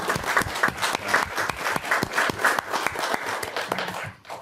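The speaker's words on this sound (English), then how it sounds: "give a round of applause to these guys" Applause at a city council meeting, scattered individual claps ringing out clearly over a lighter crowd patter, fading toward the end.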